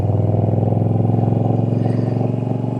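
A Moto Guzzi V7 motorcycle engine thrums steadily while riding, a close, loud, evenly pulsing low drone with no talking.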